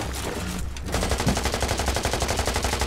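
Video game gunfire begins after a short pause as a rapid, evenly pulsing automatic stream. It is loud and continuous over a constant background of game noise.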